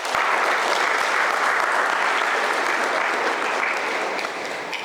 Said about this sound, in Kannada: ಇವತ್ತು ಈ ವಿಷಯವನ್ನು ಕುರಿತು ಮಾತಾಡಿದಂಥ ಈ 2-3 ಮಕ್ಕಳಿಗೆ ಮತ್ತೊಮ್ಮೆ ಜೋರು ಚಪ್ಪಾಳೆ.